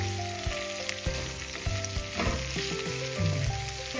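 Onions frying in a pan for mutton biryani, a close, loud, dense sizzle crackling steadily throughout with bumps of stirring, no talk.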